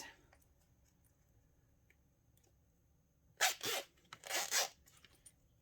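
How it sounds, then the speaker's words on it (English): A zip on a travel satchel being sewn is handled in two short rasping bursts near the microphone, following a few seconds of quiet workroom ambience with faint small clicks. "So I'm going to grab the zip"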